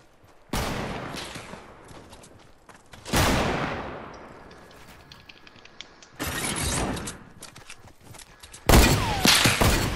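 Four loud hunting rifle shots ring out in Fortnite, spaced a few seconds apart, each a sharp crack that trails off into a fading echo, with faint mechanical clicks between shots.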